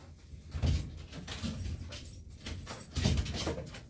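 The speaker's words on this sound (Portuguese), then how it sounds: "Deixa eu só abrir a porta para esse meu querido cachorro" An indoor door is opened to let a dog out, giving a few soft thuds and a sliding, rustling movement spread over several seconds, at moderate level with no clear voices.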